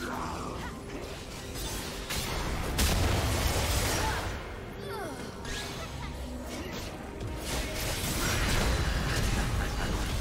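A turret destroyed in League of Legends gives a booming, crashing explosion amid dense game effects, with whooshes and clattering impacts layered over a steady loud bed throughout.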